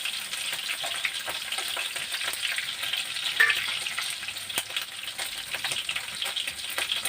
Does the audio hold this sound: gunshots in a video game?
no